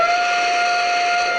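A steady, shrill whistle from a Lionel model train set sounds continuously with a hissing edge, loud and close throughout, no pauses.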